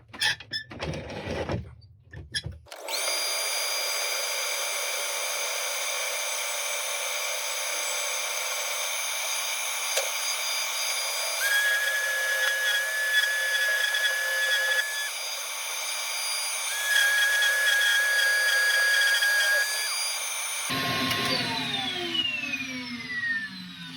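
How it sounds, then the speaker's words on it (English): Sandpaper pressed to a turned wooden mushroom spinning on a woodturning lathe gives a steady whirring hiss over the motor's hum, starting after a few clattery handling noises and ending in a brief rattle. "I'll give that a quick sand."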